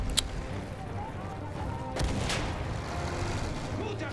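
Battlefield 1 combat plays under a constant rumbling din of battle, with a few sharp gunshots and a heavier booming artillery shot standing out partway through.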